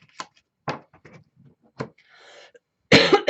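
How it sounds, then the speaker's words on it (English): A woman with allergies coughs several times in short, close, separate bursts with quiet gaps between them, ending in a louder double cough. "I have this cough."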